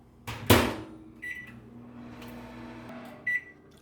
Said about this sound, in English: In the microwave, of course.